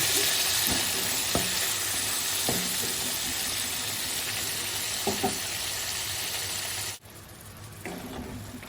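Prawns fry for Bengali chingri kosha with a loud, dense, continuous sizzle and occasional stirring clicks, cutting briefly quiet before resuming.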